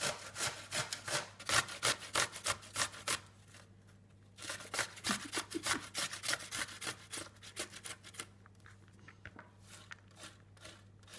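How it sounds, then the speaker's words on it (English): Cucumber rubbed against a box grater in a home kitchen, a fast run of rhythmic rasping strokes near the mic, pausing briefly midway before resuming more sparsely, with a steady low hum underneath. "I'm going to grate the cucumber next"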